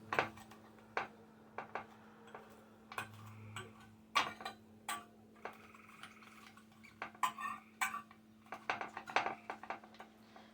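Knife chopping cilantro on a cutting board in a home kitchen while making potato salad, a quiet run of irregular sharp taps and clicks over a low steady hum, no voices.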